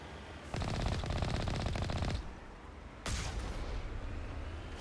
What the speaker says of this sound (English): Blast them with the cannon.